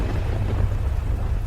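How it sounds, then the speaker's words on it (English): A thunderstorm rumbles low and continuous while heavy rain drums steadily against window glass, the deep roll of thunder filling the whole stretch with no voices. "The rain pounded against the glass while the thunder rattled the panes."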